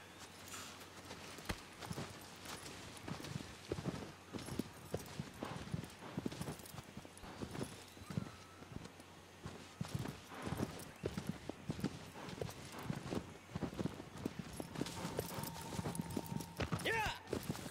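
Horse hooves clop in Shadow of the Colossus on PS4 Pro as the horse moves at a steady gait, with repeated close footfalls and a faint ambient hum. A voice talks over part of it.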